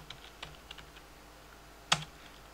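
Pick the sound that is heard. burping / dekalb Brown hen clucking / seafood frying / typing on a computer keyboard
typing on a computer keyboard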